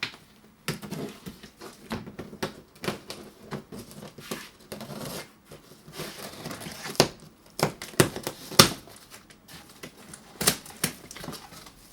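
Taped cardboard box holding an electric scooter being opened, with sharp irregular tearing, scratching and crinkling bursts of tape and cardboard, close and moderately loud, with quieter pauses between.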